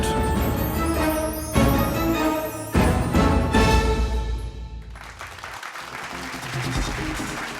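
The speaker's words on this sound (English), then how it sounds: "A huge round of applause, ladies and gentlemen" Audience applause at a CNBC risk management award ceremony, a steady, full burst of clapping from a large crowd that swells in waves and then thins slightly toward the end.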